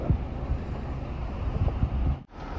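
Wind buffets a loaded truck in steady, rumbling gusts that stay close and fairly loud throughout, then cut out abruptly for a moment near the end before returning.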